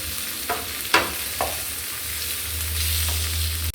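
Spices being stirred into cauliflower palya frying in a pan, with soft scraping strokes over a steady low sizzle and a few sharper clinks of the spoon.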